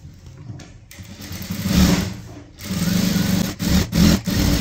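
Sewing machine stitching the lining of an aari blouse, bursts of fast, close motor whirring that stop and restart, with short pauses between runs and no talking.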